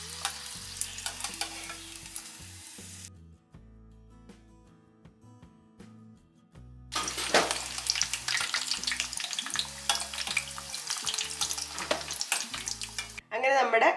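Paneer fingers frying in hot oil, a crackling sizzle with stirring that cuts out briefly then returns louder, under steady background music.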